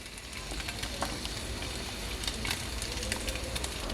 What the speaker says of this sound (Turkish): Duyduğunuz gibi şu anda kızarıyor.